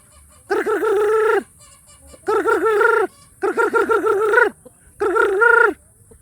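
Loud, close calls from free-range village chickens, a hen about to lay, in four drawn-out bursts with short pauses between them, harsh and nasal, with no voices.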